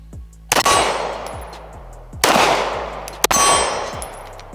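Three sharp, loud Glock 45 pistol shots fired at a steel target, each crack followed by a ringing metallic clang and decaying echo, spaced irregularly over a few seconds with no talking.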